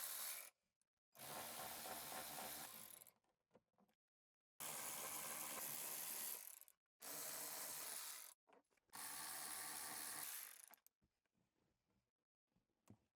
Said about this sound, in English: removing the bolts that's holding in the trim panel pieces that covered the airbag on the roll bar. I'm using an 8mm socket.